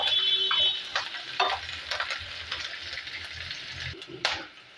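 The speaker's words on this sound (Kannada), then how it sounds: "ಸ್ವಲ್ಪ ಜಜ್ಜಿರೋ ಬೆಳ್ಳುಳ್ಳಿ, ಕರಿಬೇವು ಸೊಪ್ಪು ಹಾಕಿ ಚೆನ್ನಾಗಿ ಇದನ್ನು ನಾವು ಫ್ರೈ ಮಾಡ್ಕೊಳ್ಳೋಣ" Crushed garlic and curry leaves frying in oil for a beetroot and kabuli chana dry palya, giving a loud, bright crackling sizzle with stirring scrapes throughout that eases toward the end.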